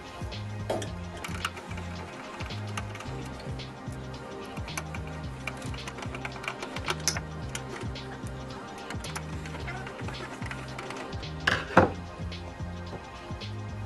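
Phillips screwdriver turning out the screws on the back of a computer power supply, a close, rhythmic series of small metallic ticks and clicks, with a brief louder knock near the end.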